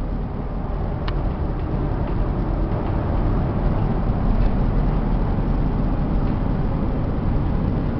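A 2004 Chevy full-size AWD van cruises steadily down the road at around 55 to 60 mph, with a continuous, even rumble of engine and road noise filling the whole stretch without a break.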